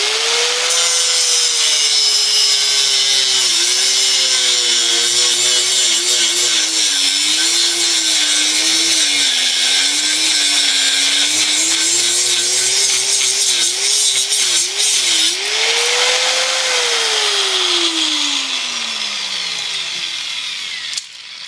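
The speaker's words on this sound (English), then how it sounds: "I'm just going to cut off this corner right here, so it gives me already a round curve." Power tool cutting a corner off a steel blank for a stock-removal knife, a continuous loud whining grind whose pitch wavers with load, then rises and falls away as the cut finishes.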